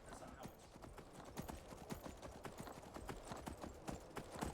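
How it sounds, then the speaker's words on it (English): A horse clip-clops at a steady trot in Skyrim, a rapid run of faint, even hoofbeats throughout. "We have just ridden a horse to the throat of the world"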